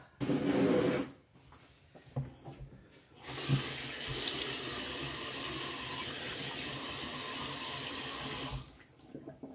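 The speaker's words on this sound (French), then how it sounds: "Donc, rinçage de visage express." Tap water runs steadily into a bathroom sink during a quick face rinse, with a short burst at the start, a brief pause, then a longer continuous splashing stream that stops abruptly near the end.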